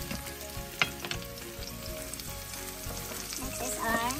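Onion, garlic and celery fry steadily in a pan, a continuous close sizzle with a few sharp clinks of a utensil against the pan and a rising crackle near the end.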